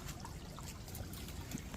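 A mountain creek trickles over slick rocks in a nature preserve, a steady close wash of running water, alone throughout.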